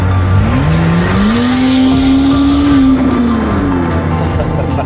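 A 2010 Chevy Traverse with a cracked flex pipe revs up, its raspy engine note climbing, holding and falling back over about five seconds, loud and close.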